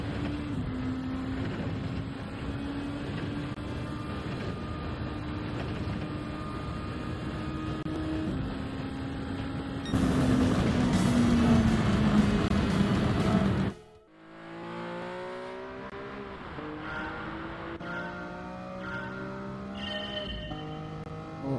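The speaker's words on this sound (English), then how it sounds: "gently on the accelerator as we're going round, and then it's full throttle all the way to the end" A race car engine screams at full throttle in Gran Turismo 7, a loud sustained whine that rises through the gears, then a sudden drop and fresh climbs in pitch as it upshifts, with no talk.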